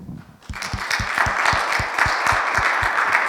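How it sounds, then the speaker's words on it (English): An audience at a humanist forum gives a round of applause, starting after a brief quiet and then holding as steady, moderately loud clapping with a few distinct claps standing out. "I'd like to give Shane another round of applause, please."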